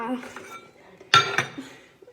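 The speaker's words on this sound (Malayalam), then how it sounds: "പാത്രം എടുത്ത് വലിച്ചെറിയല്ലേ" A child grabs and flings a metal dish or pot, giving one sharp clattering crash followed by a smaller rattling bounce, with quieter clinks and a faint voice around it.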